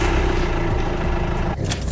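A Renault Twingo 2 engine running steadily at close range, a continuous mid-pitched hum with a slight change near the end, no talk over it.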